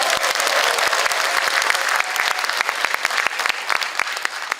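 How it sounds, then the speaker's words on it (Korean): Audience applause fills a large conference hall in the National Assembly members' building during a policy forum, steady dense clapping from many hands throughout, fairly close and loud with no talk over it. "박수 한번 더 보내주세요."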